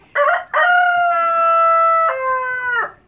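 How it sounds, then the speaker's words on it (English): A Rhodebar rooster gives a single loud, close crow that opens with a short burst and then carries a long, drawn-out note before trailing off. No talking is heard. "And as you can hear, the Rhodebar has a beautiful crow."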